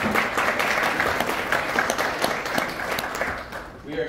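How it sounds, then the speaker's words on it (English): An audience claps and applauds at a launch event, a dense, sustained wash of clapping that gradually tapers off toward the end. "so let's please give them all a round of applause"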